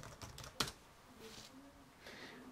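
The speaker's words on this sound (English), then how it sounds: "I'm typing in basically Southampton to" Fingers tap on a computer keyboard while typing a route search into Google Maps, quiet and close. A few scattered keystrokes form a short burst, one sharper click standing out, with faint room sound behind.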